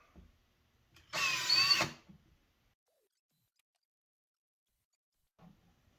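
A Ryobi power drill bores a pilot hole for mounting Link tool storage, one short loud whir lasting under a second, followed by near silence and a faint knock.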